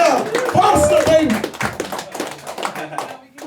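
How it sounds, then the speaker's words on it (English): An open-mic comedy crowd claps and cheers in a burst of applause that fades, while a voice talks over it close to the mic. "Give him a round of fucking applause"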